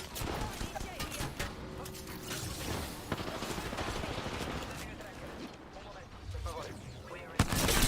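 Rapid gunfire and explosive shots rattle through an Apex Legends match, dense bursts of weapon fire nearly continuous throughout, with voice callouts mixed in.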